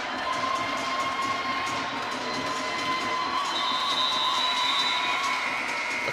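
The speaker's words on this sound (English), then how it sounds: "The crowd is getting into it." A volleyball crowd cheers steadily during a tense final point of a women's match between Humber and St. Clair, with a dense, sustained roar of voices and no clear breaks.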